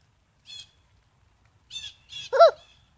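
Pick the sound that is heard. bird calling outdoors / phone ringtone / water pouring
bird calling outdoors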